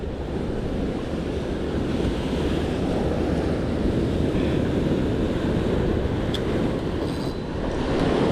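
Strong sea waves crashing and rushing at a rocky island shore near Ratnagiri during a fishing trip, a loud continuous roar with heavy wind noise on the microphone and no talk.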